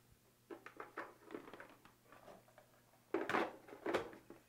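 Plastic bin of a Baratza Encore conical burr grinder being set back in place, a few light clattering knocks and scrapes in two short bursts, close by, with no talking.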